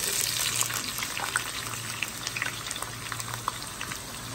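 Onions frying in oil in a large pot for a beef gulai, a steady soft sizzle with crackling pops and occasional stirring scrapes, close and fairly quiet.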